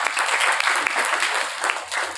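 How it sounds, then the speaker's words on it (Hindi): Loud, dense audience applause at an education movement gathering, sustained steady clapping from many hands throughout the short stretch, with no speech over it. "मैं चाहता हूँ नासिर के लिए तालियां बजेगी जोरदार"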